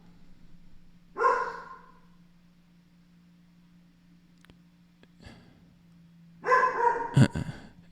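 A medium-sized dog indoors, stirred up by someone at the door, gives one short bark and then, after a quiet stretch, a sharper cluster of barks. The barking is near and fairly loud over a low steady hum.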